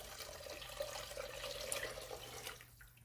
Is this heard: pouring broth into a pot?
yes